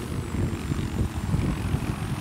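A helicopter in Battlefield 4 gives a loud, continuous thudding rotor and engine drone with steady, pulsing low rumble throughout.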